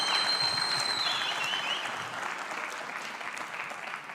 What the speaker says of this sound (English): Could we please really and truly give a warm round of applause to our CEO for a job well done